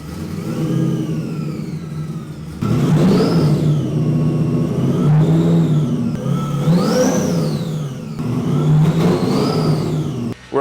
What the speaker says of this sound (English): at least good enough to start the car